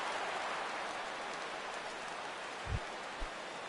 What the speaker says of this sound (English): Well, Matt, the rain is really starting to come down